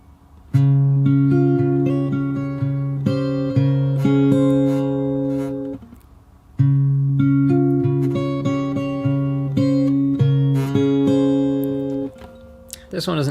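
Fingerstyle acoustic guitar plays a bar from a song as picked arpeggiated notes over a held bass, repeated twice with a short pause between, close and clear.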